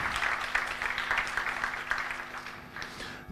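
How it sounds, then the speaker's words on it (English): Conference audience at a cross-border coworking event gives a round of applause, a moderate, steady patter of many hands heard from a distance in a hall that continues evenly and then begins to thin out. "So please give those people a round of applause"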